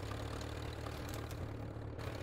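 A pink tractor idling in the video game Teardown: a low, steady engine rumble running throughout with no speech, fairly quiet.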